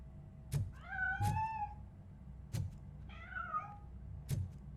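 A cat in the video game RoboCop: Rogue City lets out two plaintive meows. Sharp, heavy thunks recur at intervals, like footsteps or impacts, and the scene is otherwise quiet with no speech.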